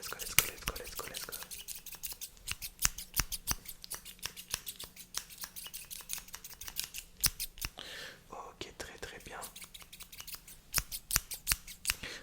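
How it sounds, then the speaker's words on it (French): Crisp scissor snips close to the ear, in quick irregular bursts through hair, with a soft voice speaking briefly in between. "je commence avec cette paire de ciseaux"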